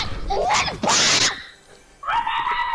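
A young child screams loudly and shrilly in voice chat during an online game, with several sharp bursts, one long sustained shriek, a brief quiet gap, then a final high wail.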